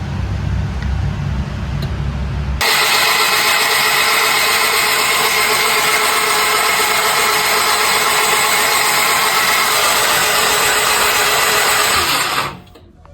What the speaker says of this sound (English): we are going to crank it over with the starter motor